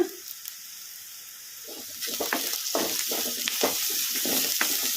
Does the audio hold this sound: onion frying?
yes